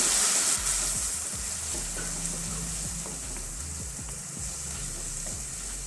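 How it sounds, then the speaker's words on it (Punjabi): Ground onions frying in a pan for a pumpkin-and-paneer curry make a steady, close hissing sizzle with soft stirring scrapes throughout, no voices. "ਗ੍ਰੈਂਡ ਕੀਤੇ ਪਿਆਜ਼ਾਂ ਨੂੰ ਵੀ ਆਪਾਂ ਚੰਗੀ ਤਰ੍ਹਾਂ ਭੁੰਨ ਲਵਾਂਗੇ"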